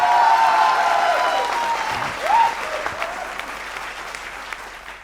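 Applause from a comedy-show audience at a poetry event, steady and fairly loud, gradually thinning, with a few whistles and cheers rising over it and faint voices underneath.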